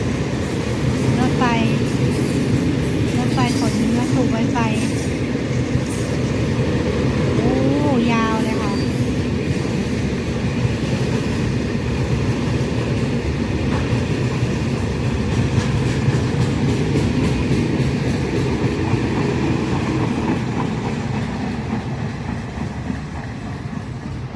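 A freight train rumbles past close by in a steady, loud wash of noise, with faint high squeals and brief voices underneath.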